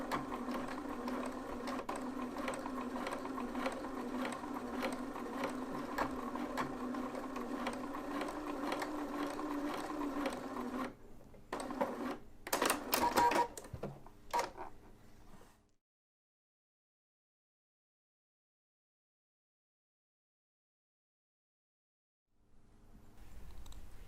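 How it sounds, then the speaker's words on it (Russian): A sewing machine stitches the neckline facing of a V-neck T-shirt in a steady, fast mechanical whir for about eleven seconds, then a few shorter bursts and clicks, a long silence, and the machine starting again. "Обтачку горловины буду стачивать в соответствии с линиями, перенесенными с выкройки."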